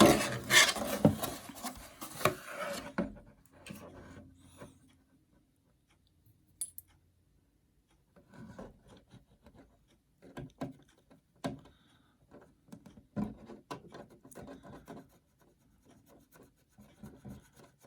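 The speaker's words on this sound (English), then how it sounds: "I'm just gently working it with a brush" A brush scrubs a model car body with Tamiya body cleaner: one loud scratchy burst at first, then quieter, intermittent rubbing strokes close by, with no voices.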